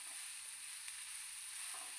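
Carrot fries briefly in a pan, giving a soft, even sizzling hiss with no clear stirring strokes and no voices.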